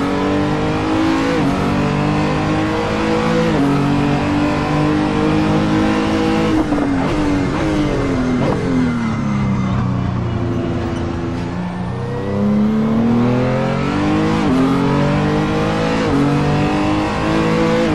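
Renault RS 01 race car engine in the Assetto Corsa video game, loud and continuous, revving up through rising gear pulls with sharp shifts between them, dipping once and climbing again, with a brief tire squeal.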